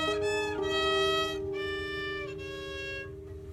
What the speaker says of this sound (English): That's what steel strings sound like.